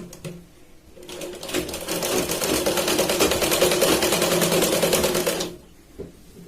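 A sewing machine runs a fast, continuous double stitch along a blouse sleeve, loud and close for several seconds, with quiet handling before and after.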